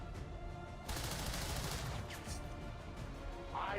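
Weapon fire in the space strategy game Stellaris, a dense crackling burst of shots that starts abruptly and rolls on steadily for several seconds, with a brighter swell near the end.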